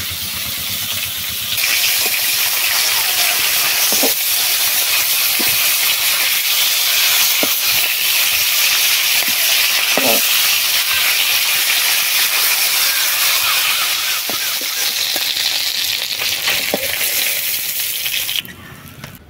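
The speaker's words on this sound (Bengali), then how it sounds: "মাছ ভাজা হয়ে গেছে" Snakehead fish sizzles steadily in hot oil in a pan, a loud continuous crackling hiss with scattered pops and spits that runs nearly unbroken before cutting off at the end.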